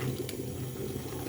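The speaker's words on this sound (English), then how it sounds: "I'm going to add a little bit of water so that the fish can, enter the pepper" Water is poured into a pot of pepper and fish, producing a short, steady splashing and gurgling stream at close range, with no talk.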